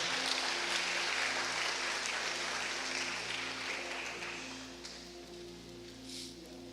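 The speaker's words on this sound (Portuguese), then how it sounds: "Dá um aplauso para o Senhor, pode tomar assento." A church congregation applauds during a Brazilian evangelical service, with a soft, diffuse wash of clapping over a steady tonal hum, slowly fading toward the end.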